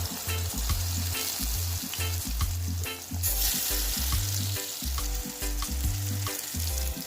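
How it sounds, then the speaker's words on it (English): Oxtail fries in curry in a pot with a loud, steady sizzle, broken by rhythmic stirring and scraping that repeats through the clip; no voices. "So now we're going to put in our oxtail to get that little smear over it."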